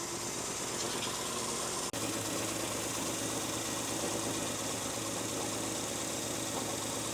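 A 1965 Ford Thunderbird engine idling at around 850 RPM, a steady, dense rumble with an even texture and a single sharp click partway through.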